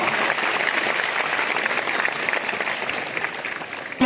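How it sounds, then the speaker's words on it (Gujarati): Sustained applause from a crowd at an honouring ceremony, dense and steady clapping that continues throughout before tapering slightly at the end. "જોરદાર તાળીઓના નાદ સાથે એમને પણ વધાવો"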